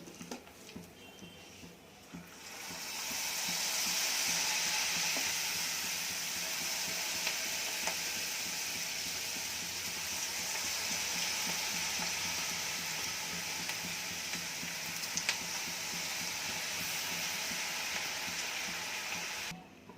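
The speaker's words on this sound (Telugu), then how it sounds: "ఇదే మాదిరి అన్ని పకోడాలు వేయించుకుందాం." Cabbage pakodas deep-fry in hot oil with a steady, dense sizzle that swells in after a quiet start and carries on evenly at close range, with faint crackles and no talking.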